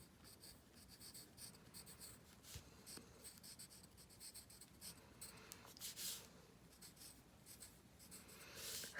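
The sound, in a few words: writing words on paper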